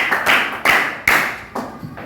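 Several hand claps in a classroom at a steady rhythm, close and crisp, each ending quickly, as part of a counted clapping signal.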